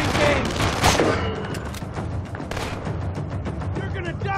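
Rapid bursts of gunfire from the Tom Clancy's Splinter Cell shooting game, loud and close, with shouted voices over the shots.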